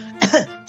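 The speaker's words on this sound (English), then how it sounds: "Your coworker is sitting there coughing" One person lets out a short, harsh cough in two quick bursts, close and loud, with a faint trailing breath.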